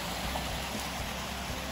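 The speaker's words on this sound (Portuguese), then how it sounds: "Temos água." Steady rush of water flowing in a stream near a forest cabin in Monteiro Lobato, a continuous close hiss and burble with no voices.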